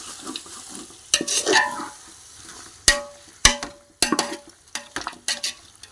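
Andhra-style country chicken dum biryani being stirred in a pot, with sizzling underneath and a series of sharp clanks and scrapes of a spoon against the metal at irregular intervals.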